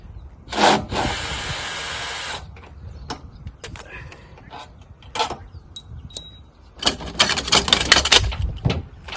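Short bursts of a loud, rattling impact wrench removing bolts from van stabiliser legs, one early and a longer run near the end, with clanks and handling noise in between.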